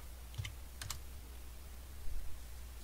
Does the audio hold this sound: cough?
no